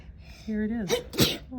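A person sneezes once, a sharp nearby burst with a quick intake before it, surrounded by casual talk.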